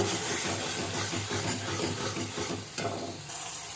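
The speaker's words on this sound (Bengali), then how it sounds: "দিয়ে দেবে হলুদ গুঁড়ো, দিয়ে একটু ভালো করে মিশিয়ে নেবে" Prawn masala frying in oil as turmeric powder is stirred in, a steady close sizzle and hiss with soft scraping stirs running through the whole stretch.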